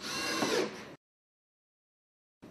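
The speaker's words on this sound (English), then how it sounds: "Attach the plenum adapter with 5/16 inch screws." Power driver sinking 5/16 inch screws into the flange of a plenum adapter on a linear diffuser duct, one short loud whirring burst followed by silence and the start of a second burst.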